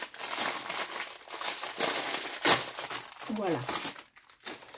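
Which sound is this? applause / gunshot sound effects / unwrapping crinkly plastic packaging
unwrapping crinkly plastic packaging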